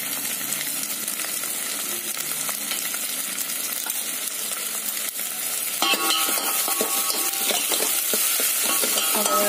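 Dal simmering and frying in a pan after chili powder and turmeric are stirred in, a loud, continuous close-up sizzle and bubbling that grows slightly busier near the end.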